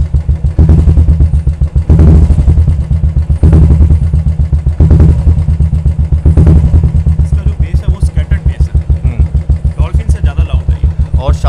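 A Royal Enfield motorcycle fitted with a brass Swagman exhaust is blipped repeatedly, about five sharp throttle bursts rising over a thumping idle, loud and close, with someone talking over the later part.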